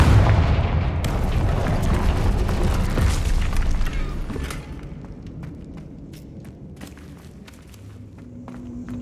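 A Confringo fire spell bursts in Hogwarts Legacy, a loud booming blast with rumbling debris that fades over several seconds into quieter crackles and scattered impacts.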